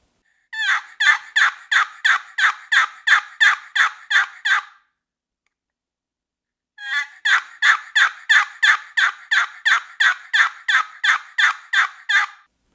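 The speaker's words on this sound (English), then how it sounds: "Now we're going to go over the assembly yelp." Two long, steady runs of loud, evenly spaced yelps from a wooden turkey box call with a Quick Change lid, about a dozen strokes in each burst, split by a short pause.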